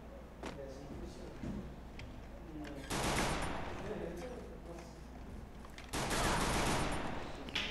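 Gunfire in the mobile battle royale game Free Fire during a ranked match, with rapid bursts of shots that erupt sharply twice and then trail off, over background game noise.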